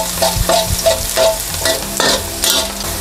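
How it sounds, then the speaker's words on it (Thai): Garlic fries in about two tablespoons of oil in a pan, a loud close sizzle broken by repeated scraping stirs in a quick rhythm. "แล้วเราก็ใส่กระเทียมลงไปเลยค่ะ เจียวกระเทียมให้เหลืองค่ะ"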